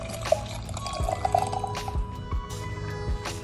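Lemongrass tea poured into a container, a soft trickling and dripping liquid sound with light glassy clinks, steady and close over about three seconds with no talking.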